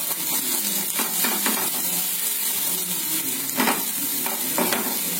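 Onions frying in a pan with curry leaves nearby, a loud continuous sizzle broken by several close scraping stirs of a spoon, with no talk.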